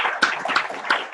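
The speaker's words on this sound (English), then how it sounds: "Let's give a one more round of applause" Audience applause after a presentation comes as a brief, close burst of a few hands clapping in loose rhythm, only about a second long.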